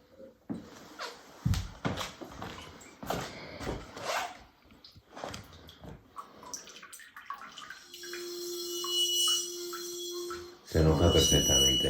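Water poured into a container to change its pitch, heard as a rising filling tone with a steady hum near the end, loud and close after a stretch of talk and handling knocks.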